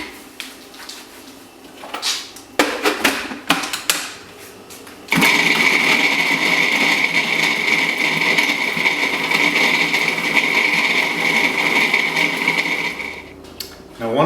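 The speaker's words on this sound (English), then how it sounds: "take the package of tofurkey Italian sausage and put it in the food processor and grind it up" Food processor grinding a package of Tofurkey Italian sausage for lasagna, a loud sustained motor whine starting abruptly midway and running steadily for about eight seconds, preceded by some handling clatter.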